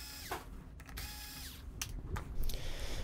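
A powered driver whirs in short, close bursts while backing screws out of a Sony XBR-65X850D television, the tool's whine rising and falling over a low background rumble.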